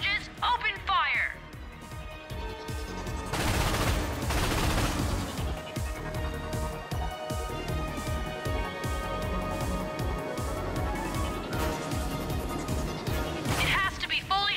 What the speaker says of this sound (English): When the cannon charges, open fire!